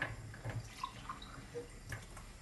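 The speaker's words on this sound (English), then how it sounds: "I will only add a bit of water." Water trickles and splashes into a pan of salted onions, a soft, steady pour with faint drips, close by and alone without voices.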